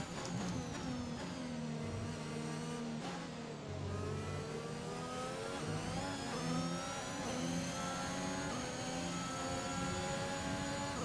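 A Formula 1 car engine in the racing game F1 2021 at the French Grand Prix, a high, sustained whine that rises and falls through gear changes as the car closes in, loud and continuous with no talking.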